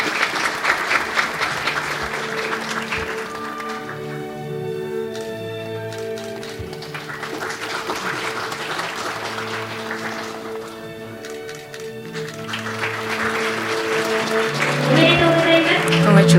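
Sustained applause from an audience honouring award winners at a children's world peace summit, steady and full for the whole stretch, swelling louder toward the end, with a voice and musical tones sounding beneath it.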